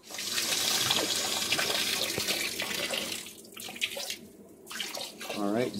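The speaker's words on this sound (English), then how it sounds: "I'm gonna hit this and water is gonna drain out." Steady rush of water draining from the pressure valve of a solar-panel water heater for several seconds, fairly close, with a few brief gurgles and splashes toward the end.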